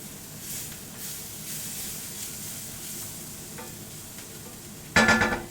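Vegetables sizzle steadily in a hot pan during pan-searing, a soft continuous fry and hiss, ending with a sudden louder burst of crackling.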